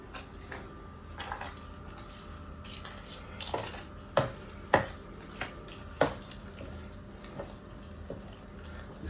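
Roasted tomatoes with blackened skins are stirred and squished in a pan, giving a few distinct scraping clatters and soft wet knocks at moderate closeness, with a quiet running background and no talking.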